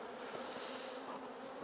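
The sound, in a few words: honey bees buzzing at a hive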